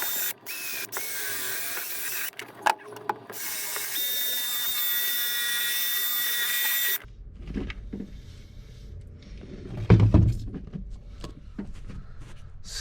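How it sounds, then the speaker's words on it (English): Wire wheel on a power tool grinding surface rust off a 240Z, a steady high whine with a scraping edge for several seconds, then it cuts off and clunks and handling noises follow. "I'm gonna go ahead and wire wheel that right now"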